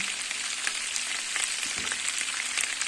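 Butter and vegetable oil sizzle steadily in a pan while semolina halva is started, a soft continuous frying hiss with faint crackles and pops, close and even, with no talking.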